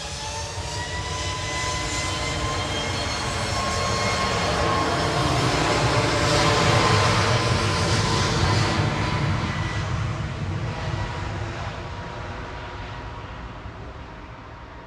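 A Ryanair Boeing 737 MAX 8 on its departure from Manchester Airport, bound for Katowice: a steady, broad jet roar that swells toward the middle and slowly fades, heard alone without voices.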